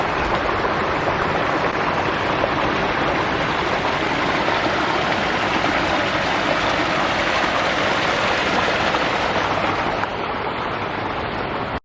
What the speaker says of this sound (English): we found a little hidden gem waterfall here.